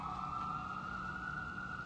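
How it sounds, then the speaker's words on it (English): Emergency vehicle siren wailing in a steady high tone, faint and distant over a low background rumble. "That's a nice siren."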